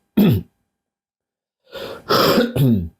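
One short cough, then after a pause a cluster of three harsh coughs and throat clearing, close and distinct.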